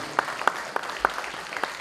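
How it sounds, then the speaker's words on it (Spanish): Thinning applause for the performers of a theatre production, Los amores de Sor Juana, with several crisp, evenly spaced claps sounding close over faint background clapping. "Que se escuche fuerte, fuerte el aplauso"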